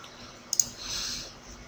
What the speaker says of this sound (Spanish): En este caso vamos a ir reduciendo la fuente, vamos haciendo clic